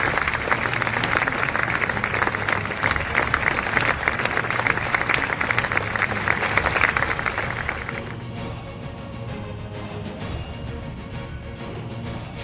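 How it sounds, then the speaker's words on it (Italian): An audience applauds at a martial arts demonstration on a mat, a dense, loud burst of clapping for about eight seconds that then thins into scattered claps. "Un applauso!"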